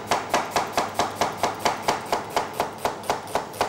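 A knife slices an onion with its core removed on a cutting board in steady, even strokes, about thirteen crisp chops at a regular rhythm, close and clear with no talking.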